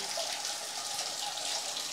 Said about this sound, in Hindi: ये तो कुदरत की देन है, जो अपने आप ही आता है पानी।